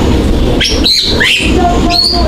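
A Bali myna at a zoo gives several loud, rising whistled calls and chirps over a steady, noisy background hum.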